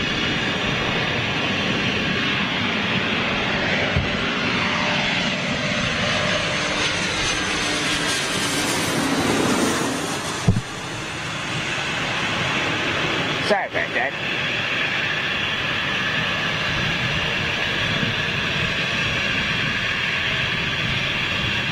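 Jet aircraft at London City Airport, a steady broadband engine roar holding loud throughout as the plane moves out, with a brief sharp dip and a couple of clicks midway and people talking faintly underneath.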